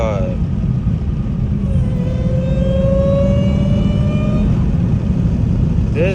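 Dodge Hellcat engine revving up once in a long, steadily climbing pull, its supercharger whine rising over a constant low rumble with wind noise.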